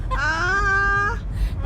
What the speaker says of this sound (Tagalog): Maingay yung aso eh.